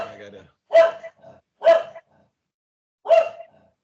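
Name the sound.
dog barking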